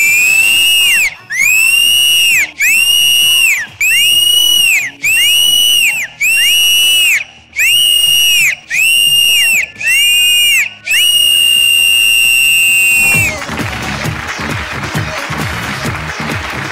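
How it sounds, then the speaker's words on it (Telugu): A dance-show studio audience whistles together in about ten loud, shrill, evenly spaced blasts, ending with one long sustained whistle that gives way to cheering and applause. "అందరం విజిల్ వేద్దాం"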